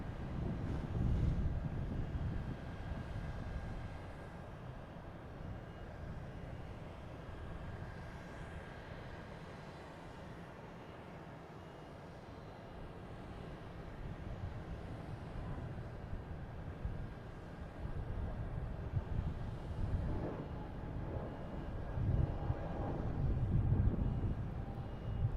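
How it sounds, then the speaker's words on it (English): Airplanes fly near Boston Logan Airport on New Year's Eve, producing a steady, broad jet roar that swells toward the end, heard outdoors with some wind noise and no talking. "we've got two planes here"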